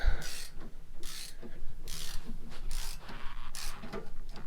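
A 3/8 ratchet on an extension loosens a bolt during a rear differential job, giving a series of quick, fairly quiet clicking strokes in steady bursts with low mechanical rumble underneath.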